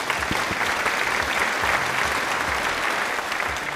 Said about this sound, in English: Okay, big applause first.